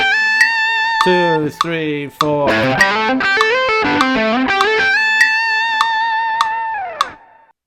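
Distorted electric guitar plays an intervallic pentatonic lick, leaping across the fretboard in quick sustained notes with effects, loud and continuous, while a voice counts briefly over it.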